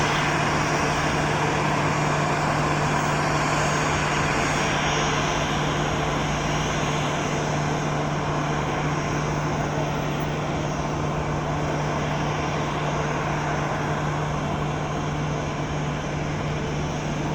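A Gol Boeing 737-800 airliner taxis at Presidente Prudente airport with a steady, continuous jet engine whine and rumble that holds even and fairly close throughout, with no talking.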